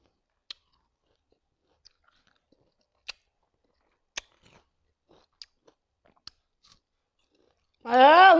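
Mixed fruit sprinkled with chili salt being eaten, with sparse, sharp crunchy bites and chewing clicks spaced apart in a quiet setting, followed at the end by a brief voice.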